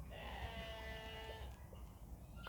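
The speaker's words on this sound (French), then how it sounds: "Encore une biquette." Bleating from a young goat among farm animals like sheep, turkeys and chickens, a drawn-out wavering cry lasting about a second and a half, fairly close, with faint rustling afterward.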